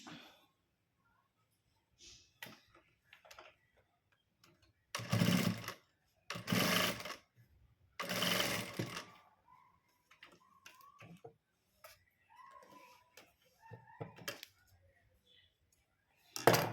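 A sewing machine stitches the folded edge of a blouse in three short, loud runs, separated by quiet handling clicks and rustles of fabric.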